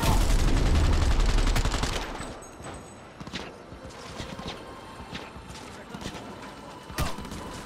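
Gunfire from shooting at NPCs in an open-world game: a loud, dense burst of shots at the start, then scattered sharper shots and thuds over quieter game ambience.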